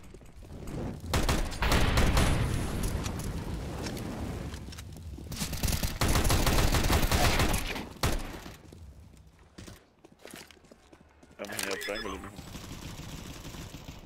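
Automatic gunfire from a UMP in a video game comes as loud, rapid bursts in several clusters separated by quieter gaps, with thuds mixed in.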